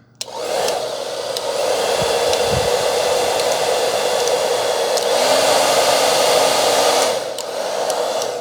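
A Trezoro salon hair dryer blowing continuously for several seconds, a loud steady broadband whoosh with a faint motor hum underneath, close to the listener.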